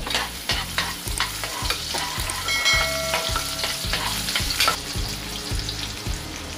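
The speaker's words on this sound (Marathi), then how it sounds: "आता मी त्यात 4 चमचे तेल टाकते आणि त्यात आता मी हा कांदा टाकते" Chopped onion frying in about four spoons of oil in a pan, cooked for a matki usal: a steady close sizzle runs under regular rhythmic stirring scrapes, with no talking.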